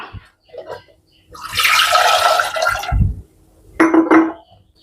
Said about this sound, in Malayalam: ഇതിലേക്ക് വെള്ളം ഒഴിക്കാം